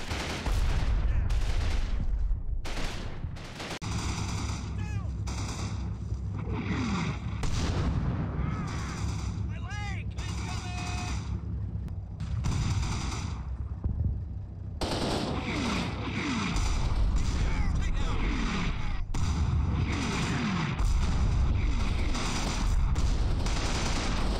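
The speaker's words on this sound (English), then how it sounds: "As the mortars continue to fall" Mortar shells burst repeatedly in the WWII Normandy battle game Combat Mission, with heavy booms and explosions in irregular succession amid continuous gunfire and rumbling, loud and dense throughout.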